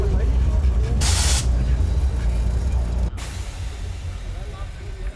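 Car air shocks release a loud, sharp hiss of air lasting about half a second, heard near over engine rumble, followed by a sudden drop to a softer background.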